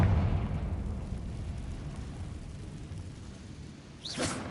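A Confringo fire spell blast from Hogwarts Legacy lands as a short rising whoosh and burst near the end, after a low rumbling ambience that starts loud and fades.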